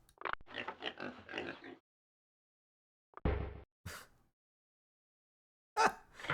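A human voice imitates a pig, giving a few short, nasal oinking grunts and snorts in separate bursts with quiet gaps between them, close and moderately loud.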